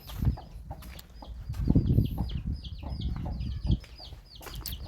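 Chickens cluck repeatedly on a rural Thai farm, with short calls scattered across the clip against a low background rumble and occasional louder bursts nearby.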